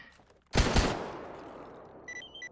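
Gunfire in S.T.A.L.K.E.R. GAMMA: one sharp, loud report with a quick follow-up shot, then a long fading echo and a brief clicking at the end.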